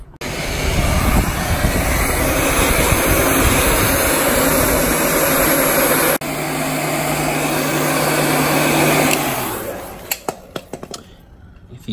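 A heat gun blowing hot air onto a car decal on a Mk3, a steady loud roar lasting about nine seconds before it cuts off, followed by a few scattered clicks and knocks.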